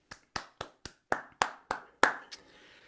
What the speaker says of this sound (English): let's have one more virtual round of applause for our wonderful guest